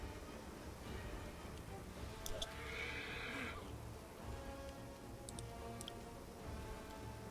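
A horse in the video game Pathfinder: Wrath of the Righteous gives one short, faint whinny amid quiet game ambience, with a few light ticking clicks before and after it.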